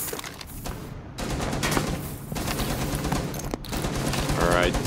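Rapid gunfire bursts from Rainbow Six Siege on the Hereford map, loud and dense, repeated across the span over ongoing game noise and background voices.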